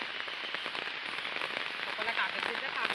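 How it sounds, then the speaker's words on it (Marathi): Heavy rain in the Konkan countryside pours down steadily as a dense, even hiss of drops hitting surfaces, close and constant, with a faint voice underneath. "आलेला आहे जोरात पाऊस आलेला आहे."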